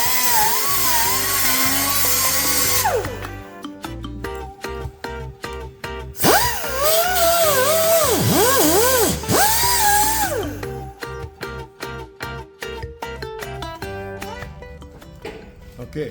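A power tool cuts into rusted body metal on a Honda Accord with a loud, sustained whine that drops away briefly, then returns, followed by a run of sharp, rhythmic clanks and taps.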